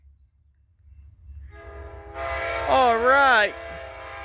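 An Amtrak Southwest Chief passenger train on the Marceline Subdivision approaches with a rising rumble, then sounds a loud, wavering multi-tone horn for about a second before it cuts off; a person speaks briefly early on.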